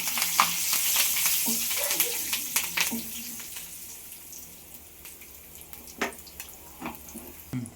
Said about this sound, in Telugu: అదేవిధంగా కొద్దిగా కరివేపాకు